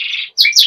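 A Border canary in a breeding cage gives a short burst of bright, close chirping notes, with a brief pause between phrases.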